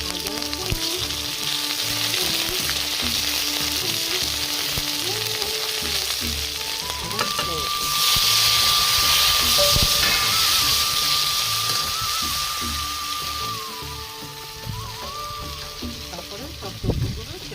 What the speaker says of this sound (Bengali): কাঁচা লঙ্কা ফোড়ন দিচ্ছি।